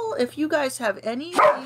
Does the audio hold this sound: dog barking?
yes